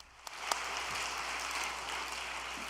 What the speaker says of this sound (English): let us offer them a welcoming warm round of applause.